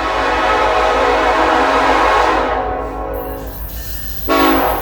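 An approaching southbound freight train sounds its horn in a long, loud, sustained chord over a rumbling rail roar, which fades and then swells again near the end.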